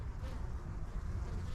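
Experienced honeybees lifting off from a hive entrance make a close, unbroken droning buzz, dense and even throughout.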